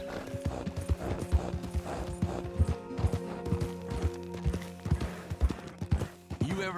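Steady clip-clop of a horse's hooves in Red Dead Redemption 2, a regular walking rhythm up close over a low humming game backdrop, with a faint whinny.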